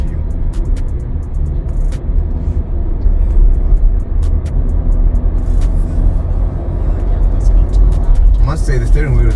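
A 2025 VW Amarok pickup being driven around Bedford View, heard from inside as a steady low engine and road rumble, loud and continuous, with faint clicks and rattles and a brief shift in tone near the end.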